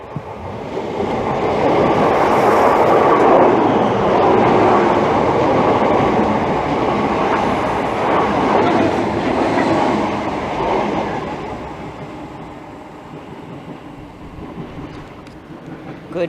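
A Greater Anglia Class 321 electric train passing through Bethnal Green station on a run from London Liverpool Street to Colchester Town, a loud close rumble of wheels and carriages that builds, holds, then fades as it moves away.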